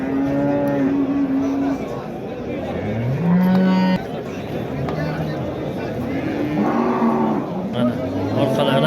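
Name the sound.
cows at a livestock sale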